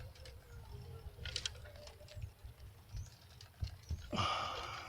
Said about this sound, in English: see the ice pellets? Hear them?